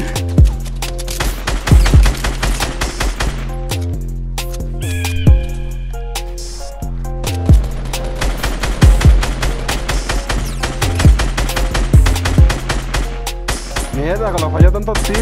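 Rapid bursts of gunfire in the video game Fortnite crackle in dense, repeated volleys across the whole stretch, loud and close, with a short lull in the middle before the shooting resumes.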